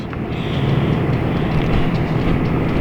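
A train passes close by, a loud continuous rushing rumble with faint rhythmic clatter throughout.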